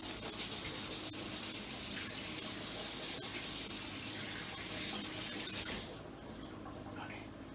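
A kitchen sink tap runs while dough is washed off hands, a steady loud hiss of flowing water that cuts back and softens near the end, with no talk.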